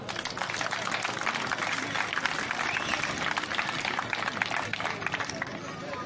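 Audience at a school excellence awards ceremony breaks into sustained, dense applause, steady and loud throughout with a crowd murmur beneath the clapping.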